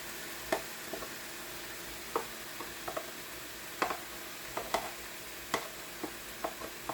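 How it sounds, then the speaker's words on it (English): Chopped onions, about one and a half cups, tossed into a pan of nearly cooked ground turkey, giving soft sizzling with scattered clicks and scrapes of stirring, near and steady, with no talking. "My meat is almost cooked, and I am now going to add my onions."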